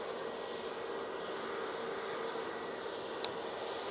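A Qatar Airways Boeing 787-9 Dreamliner taxis at Manchester Airport, its jet engines giving off a steady, moderate hum that holds unchanged, with one brief sharp click near the end.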